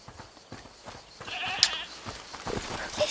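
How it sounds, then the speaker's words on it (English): A goat bleats in the video game A Plague Tale: Requiem, one wavering call in the middle of a short, quiet game scene. "Is that the goat you talked about?"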